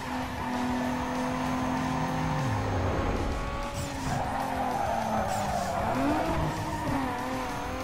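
Car driving and skidding in the street-racing video game Need for Speed Underground 2, a steady loud engine drone with pitch swoops and long tire squeals continuing throughout.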